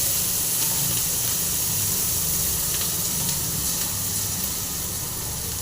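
Chutney mixture of bitter gourd leaves hitting hot oil in a pan, a loud, steady frying sizzle and hiss that holds unbroken throughout.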